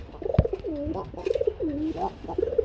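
Pigeons sold with eggs at a market, cooing in repeated rising and falling calls close by, several overlapping phrases after a sharp knock at the start.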